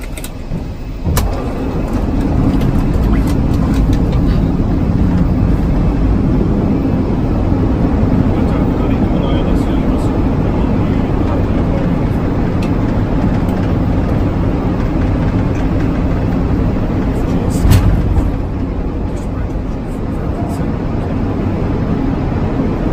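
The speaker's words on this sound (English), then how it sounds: "the sound of relative wind striking the landing gear and getting turbulent and creating buffeting effect" Wind buffeting the lowered landing gear of an aircraft on approach, a loud, steady roaring rumble sustained throughout with a faint voice talking underneath.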